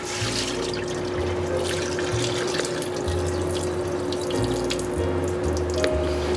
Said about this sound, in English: This is the last rinse we're going to do.